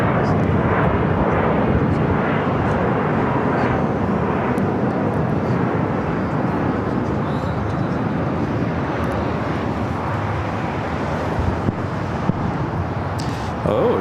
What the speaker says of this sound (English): Next takeoff is JetBlue, flight 623, heading to Boston in an A321 Neo.